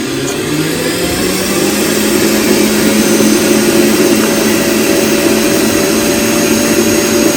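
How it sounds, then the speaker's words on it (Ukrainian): A food processor fitted with a whisk attachment whips a marshmallow mixture, its motor giving a loud, constant, close-up whirring drone with no pauses. "Ставимо знову в комбайн. Підключаємо наш вінчик. Так. І збиваємо."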